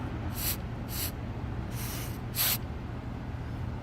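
Four short aerosol bursts of rust-protection spray applied to the screws of a railing on a concrete retaining wall, each a crisp hiss of under half a second, close and alone.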